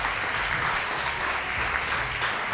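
Studio audience on a televised quiz-style game segment applauds contestants with dense, continuous clapping at a steady level throughout.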